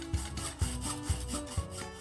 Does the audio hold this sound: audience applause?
no